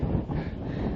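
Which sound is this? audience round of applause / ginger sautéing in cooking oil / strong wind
strong wind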